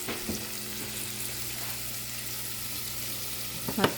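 White onion sautéing in a pan for spinach, a steady close sizzle that holds evenly throughout with one brief clatter near the end.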